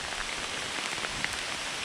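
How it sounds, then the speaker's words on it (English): Heavy rain falling outdoors by a fishing bank, a dense, even hiss of drops on surfaces that stays steady and close throughout, with one sharper drop standing out near the middle. "it starts raining heavier"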